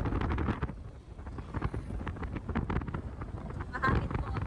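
Wind buffets the microphone in a steady low rumble throughout, with a person talking over it.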